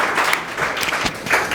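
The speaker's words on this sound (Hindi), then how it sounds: "एक बार जोरदार ताली मारिए" Students in a Hindi-medium tenth-grade biology class clapping loudly together, a dense burst of applause filling the whole short moment with no talk over it.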